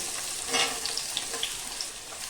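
Chopped onions sizzle in a pan for chicken curry, a soft continuous hiss with a few faint clicks and light stirring taps, close and quiet, no voices.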